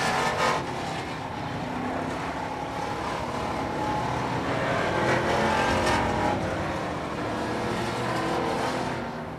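Race cars roar around Hudson Speedway on the final lap of a rookie qualifying heat at a weekly short-track event, a continuous loud wash of engines with passing surges, unbroken for the whole stretch.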